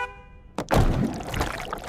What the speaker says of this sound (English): Drivers are honking like crazy